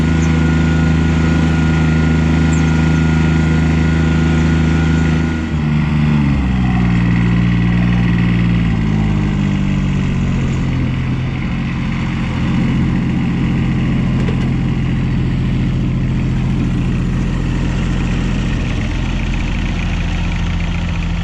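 A Cub Cadet 1772 lawn tractor engine runs close by with a loud, steady drone, its pitch sliding down partway through as the throttle is eased back to a rough, lower idle that continues to the end.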